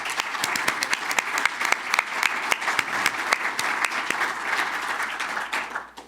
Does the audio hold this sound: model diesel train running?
no